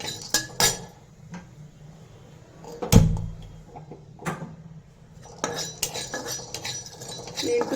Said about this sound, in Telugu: మొట్టమొదట ఈ కొంచెం పల్లీలును పుట్నాలు నేను డ్రై రోస్ట్ చేసుకుంటాను.